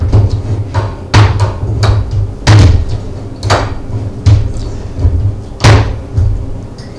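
A tool is cranked repeatedly on a stainless steel cable sleeve, giving a series of sharp clunks and thuds in an uneven rhythm over a low steady hum, close and fairly loud, with no talking.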